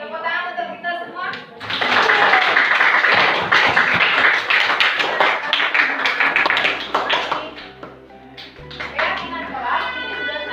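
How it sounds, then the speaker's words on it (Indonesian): Children in a classroom clap together in a dense burst that runs through most of the span, loud and close, with a few scattered voices mixed in near the end. "tepuk tangan untuk kita semua"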